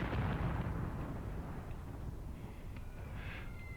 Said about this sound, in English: my support weapons are shooting at them intermittently